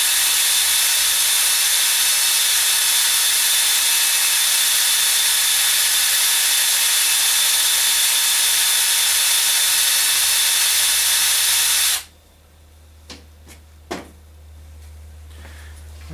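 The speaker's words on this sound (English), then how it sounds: "It's best to basically hone, check, hone, check, etc. Once you're close, then you can switch over to the 120 grit and give it its final polish." A power tool loudly hones a homemade set-up bearing for a ring and pinion differential, running as a steady whine for about twelve seconds before cutting off, followed by a few faint clicks and knocks.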